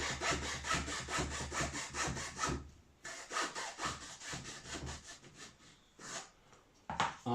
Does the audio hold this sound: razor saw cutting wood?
yes